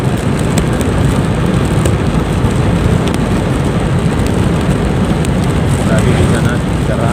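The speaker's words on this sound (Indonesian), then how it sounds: "Hujan nih agak rintik-rintik di sini." Light drizzle falling during a daytime journey, heard under a loud, constant broadband rush that may include vehicle noise, steady and close throughout, with no talking.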